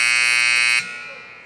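An ice hockey arena horn ends the period in a Bantam game between Helena and Billings. It blares loud and steady, then cuts off sharply into reverberant arena ambience, with a voice faintly audible.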